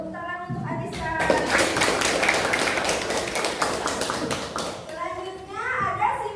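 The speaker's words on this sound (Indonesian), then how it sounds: "Tepuk tangan untuk Anissa." A classroom of children claps for a fellow student, a dense burst of rhythmic clapping that fades after a few seconds, with children's voices chattering at the start and end.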